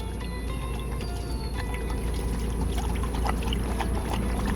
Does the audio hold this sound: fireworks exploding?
no